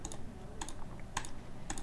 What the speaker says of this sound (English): I'm just going to left click all these and select all of them.